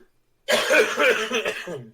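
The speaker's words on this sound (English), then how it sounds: "I'm coughing up a storm." A burst of harsh, repeated coughing starts after a short silence and continues in several rough, close-up hacks.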